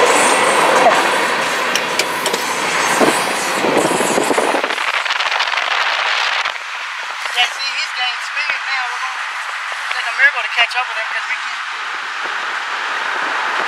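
A BNSF freight train rumbles past loudly with rolling, clattering wheels for several seconds, then the sound drops abruptly to a quieter, closer rattle inside a moving car.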